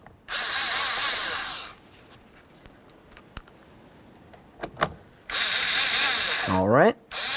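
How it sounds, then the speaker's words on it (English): A cordless power tool tightens the mounting bolts of a cruise control switch on a 2007–2012 Dodge Caliber, two loud steady bursts of whirring separated by a quiet pause with small handling clicks, the second burst ending in a rising whine. "Once they're both started, we'll snug them up."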